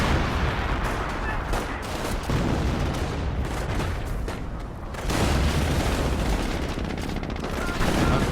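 An artillery barrage lands in Company of Heroes: dense, continuous rumbling blasts and crackling gunfire, loud and sustained across the whole stretch, with heavier impacts toward the end.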